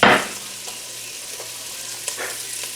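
Chopped onions, carrots and celery hit a hot soup pot with a sharp initial burst, then settle into a steady soft sizzle with occasional light stirring scrapes.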